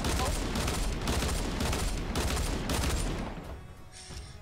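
Dense, rapid automatic gunfire in a video game rattles loud and close in continuous bursts, then cuts out near the end, with players talking excitedly under it.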